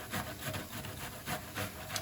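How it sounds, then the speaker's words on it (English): Zucchini rubbed over a sharp grater in quick strokes, a rhythmic rasping scrape repeating about four times in two seconds, close and moderately quiet. "I'm just going to grate the zucchini."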